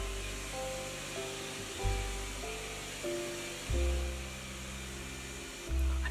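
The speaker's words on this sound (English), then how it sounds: "Apparently we're vacuuming again" A vacuum cleaner runs steadily in the background at a low, constant level, its drone holding for the whole stretch with slight surges in pitch, and no one speaks.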